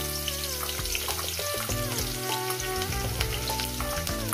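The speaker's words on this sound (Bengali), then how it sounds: "3টে শুকনো লঙ্কা ফোড়নটা কয়েক সেকেন্ড ভেজে নেবো" Three dried red chillies sizzle and spit in hot oil in a pan, a loud, steady crackling fry with bright popping that runs unbroken throughout, no voices.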